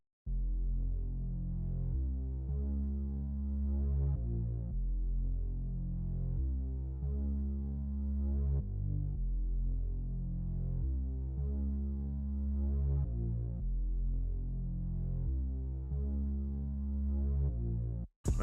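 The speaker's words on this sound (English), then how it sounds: "I just had this Growler Moog bass from Omnisphere" A Growler Moog bass from Omnisphere plays deep, throbbing sustained root notes in a repeating pattern of pulses, mono and dark with no voices, steady throughout before stopping abruptly.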